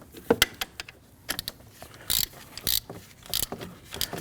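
A ratchet clicks in short quick bursts while bolts are snugged down on a 2009-2017 Volvo XC60 3.2L six-cylinder engine during a serpentine belt job, close and crisp with brief pauses between strokes.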